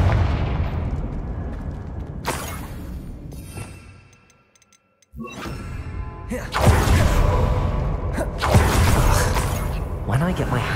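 Confringo spell blasts in Hogwarts Legacy, several sharp explosive bursts with booming impacts separated by a brief near-silent gap, loud and close.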